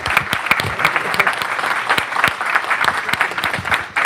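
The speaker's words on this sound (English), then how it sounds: "Please give them a round of applause" A small audience at a press event launching a medical debt forgiveness pilot gives a round of applause, with dense, close, sharp clapping that holds steady for several seconds.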